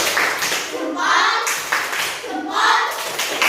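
An elementary school class does a rhythmic patterned clap for a classmate named Jessica: bursts of many small hands clapping in unison, repeating in a chant-like pattern, with children's voices mixed in.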